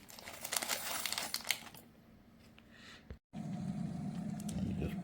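Dry herbal tea is dumped into a container, giving a crinkling, rustling pour with a brief pause, followed by a steady low hiss.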